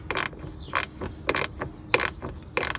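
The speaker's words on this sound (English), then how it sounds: "I'm just tightening up the screws for the fan shroud here." Screws being tightened on a plastic fan shroud during a roadside breakdown repair, heard as evenly spaced clicks of a ratcheting tool, about five sharp bursts, close and clear with no speech.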